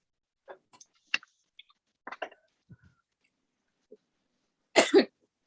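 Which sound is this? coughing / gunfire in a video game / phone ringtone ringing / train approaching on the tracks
coughing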